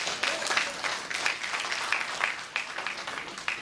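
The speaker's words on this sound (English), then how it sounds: "Yes, it deserves an applause." An audience at the Black Action Defense Committee's Dudley Laws Scholarship Brunch applauds, a moderately loud wash of clapping with uneven bursts and swells that continues throughout.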